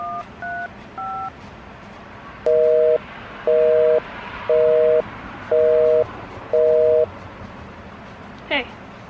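A telephone sound effect: a few short dialing tones, then five evenly spaced loud busy-signal beeps, ending with a brief electronic chirp over a faint hiss.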